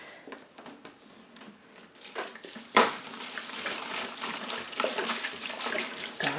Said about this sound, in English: I'm giving these some water for a wash.